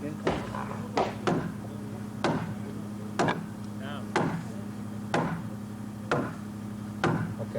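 Hammer strikes landing in a steady rhythm, about one sharp knock per second, close and clear over a low background hum.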